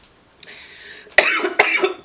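Person coughing after smoking a blunt, a faint throat sound followed by several close, harsh coughs in quick succession.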